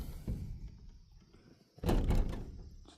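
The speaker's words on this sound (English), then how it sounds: "Locking the door." A door is pushed shut and locked at a chicken coop, giving a sudden loud thump with a short rattling latch sound, following a stretch of quieter background noise.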